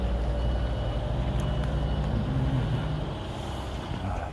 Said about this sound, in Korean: 트럭들 저기 이동하는 소리 들리고요